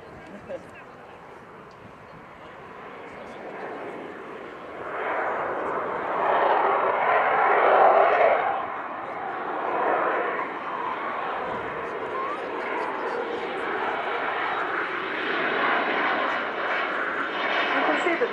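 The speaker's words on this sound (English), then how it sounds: "The jet is now slowing down in the turn for a brief respite in the noise." A jet aircraft flying slowly through a turn at an airshow gives a broad, roaring engine rush that swells louder midway and holds steady, heard beneath continuous announcer commentary.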